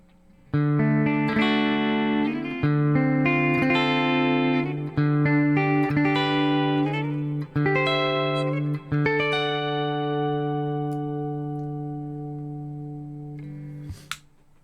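A clean electric guitar, a Mitchell MS450 with neck pickup in humbucking and bridge in split coil, plays sustained, ringing chords and notes with a warm tone, each strum decaying slowly before fading out.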